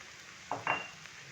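Bread pieces stirred with spices in a pan, making a couple of soft scraping, sizzling strokes close by, fairly quiet, with no talking.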